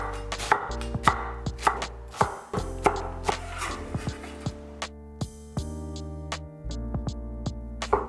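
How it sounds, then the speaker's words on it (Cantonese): Knife chopping onions finely on a cutting board for a Cantonese curry beef puff pastry filling, a steady series of close, sharp taps with brief pauses, with no talk. "首先將啲洋葱切碎，"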